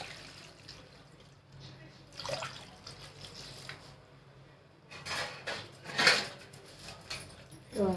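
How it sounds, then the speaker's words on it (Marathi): Water splashing and swishing as coriander is rinsed by hand in a basket, in uneven bursts with quieter pauses between. "आता ही स्वच्छ पाण्याने आता धुवून घ्यायची।"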